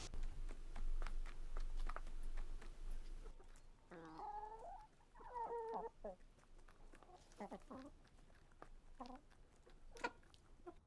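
Backyard chickens clucking in a coop, a run of short cackling calls from nearby with some scratching and patter around them, no talking.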